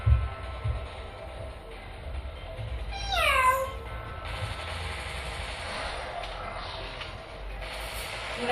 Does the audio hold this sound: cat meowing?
yes